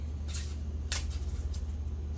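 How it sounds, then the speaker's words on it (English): A tarot card deck being shuffled, giving a few soft, papery riffling bursts against a low steady hum and no talk. "I'm noticing that this deck is just not quite shuffling smoothly."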